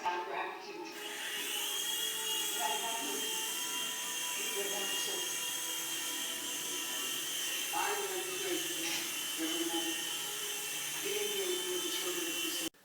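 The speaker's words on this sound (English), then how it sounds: "This helicopter has a single rotor, but it also has a tail rotor like a real helicopter." A steady high-pitched whirring hum of a small toy helicopter's single main rotor and tail rotor runs throughout at close range, with faint pitch shifts as the speed changes.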